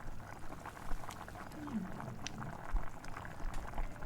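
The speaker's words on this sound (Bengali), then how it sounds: "চার পাঁচ মিনিটের মতন এখন ঝোলটা ফুটবে" Parshe fish curry broth boils in a pot in a home kitchen, giving a steady, moderately loud bubbling simmer that runs throughout without pause.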